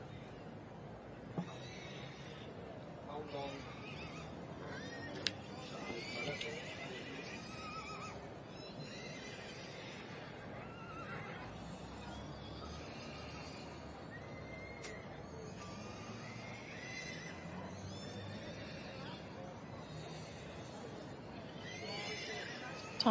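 A nine-year-old mare in a show ring whinnies faintly amid a distant, reverberant crowd murmur and a commentator's voice, with occasional faint hoof clops.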